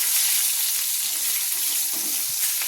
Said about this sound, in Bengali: বেগুনগুলো দেখুন আমি উল্টে পাল্টে কিন্তু ভেজে নিয়েছি।